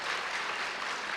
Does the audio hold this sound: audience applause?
yes